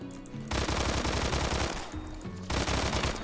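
Gunfire in the Phantom Forces video game: rapid automatic bursts, loud and continuous, broken by a couple of brief pauses between strings of shots.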